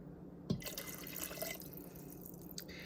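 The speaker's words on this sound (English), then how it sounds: "The last 2 components to go in, we've got 1/2 cup of water and a 1/4 cup of apple cider vinegar." Half a cup of water and a quarter cup of apple cider vinegar pour into an Instant Pot of baked beans, giving a close splash followed by soft trickling and dripping.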